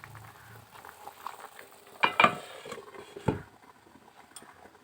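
Desi chicken curry with chui jhal stirred in a pan, soft scraping and a couple of louder clanks of the spoon against the pan over a faint low simmer.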